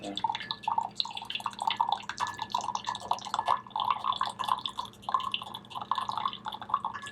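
Brewed compressed yancha tea is poured out, trickling and dripping steadily into a vessel at close range, with no talk over it.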